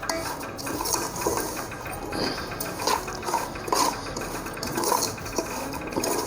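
Semolina for kheer being fried in ghee in a pan, with a spoon scraping and clinking against the metal in irregular strokes, close, over a sizzling background.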